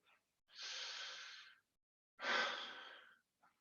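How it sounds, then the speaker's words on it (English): A person takes two long, deep breaths, each a slow airy inhale or exhale lasting about a second, close and clear in a quiet room during a worship service, with faint brief breath noises at the edges. "Would you take a deep breath with me?"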